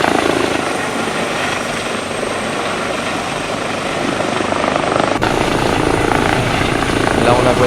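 An EC 135 helicopter in the X-Plane flight simulator approaches Notre-Dame in Paris, its rotor and turbine making a loud, steady, dense drone throughout, with a faint cockpit voice buried beneath it.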